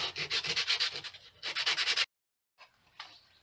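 Sandpaper is rubbed by hand over a wooden scroll saw bowl in quick, rhythmic back-and-forth strokes. Two close bursts of scratchy rasping are followed by a brief silence, then a few fainter strokes.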